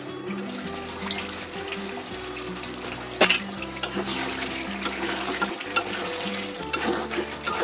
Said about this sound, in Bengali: একটু বাটিটা ধুয়ে জলটা দিয়ে দেবো।